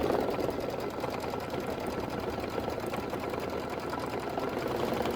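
An embroidery sewing machine runs continuously as it tacks down fabric for a Kimberbell sew-along, a steady rapid stitching rhythm at close range that stays even for the whole stretch without pause.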